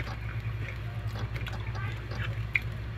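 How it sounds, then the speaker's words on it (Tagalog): Light, steady rain falls during a typhoon in Lungga, a continuous soft wash of drips and patter with a low hum underneath, even and unbroken, with no voices. "konting ulan lang na medyo dire-diretso"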